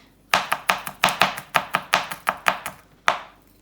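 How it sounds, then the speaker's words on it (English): A knife chops garlic lengthways on a cutting board in a quick, even series of about a dozen crisp, close knocks, then a brief pause and one final chop. "So for the garlic, I like to cut it in half and then cut lengthways so that I get nice even pieces."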